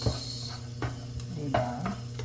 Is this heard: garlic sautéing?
yes